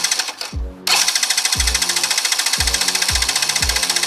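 A 50cc Jonway scooter engine with a carburetor fault sputters, catches and settles into a fast, steady rattling idle, loud and close, with rhythmic low thumps underneath.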